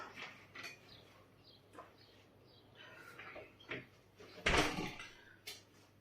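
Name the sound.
door being closed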